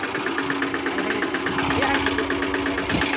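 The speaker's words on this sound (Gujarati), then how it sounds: "મિત્રો જોઈ લો તમે આ ટ્રેક્ટર છે મિની" A small mini tractor engine, used for sowing chickpeas, runs steadily close by, a constant rhythmic chugging with a faint voice underneath.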